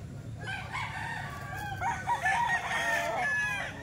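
Chickens and roosters at an open-air poultry market on a Wednesday selling day, with a rooster crowing and hens clucking close by amid a low crowd murmur.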